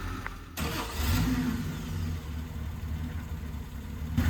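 A 1970 Triumph TR6 fitted with Weber downdraft carburetors cranks over and starts, then settles into a rough, lumpy idle with light revs. The engine is close by and heard alone.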